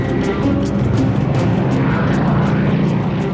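A German Luftwaffe Stuka, a WWII propeller aircraft, flies overhead during a tank battle at Kursk. Its engine gives a loud, steady, droning roar that holds for the whole moment, with no other sound on top.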